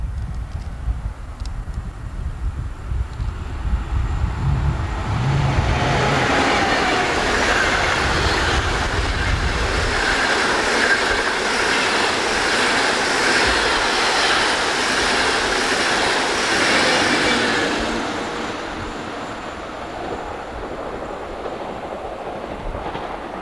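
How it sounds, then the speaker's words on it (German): A train passes along a railway embankment, rumbling up from a distance, swelling to a loud, steady roar with wheel clatter for several seconds, then fading away into quiet background. "Ach, nochmal so komischer Zug."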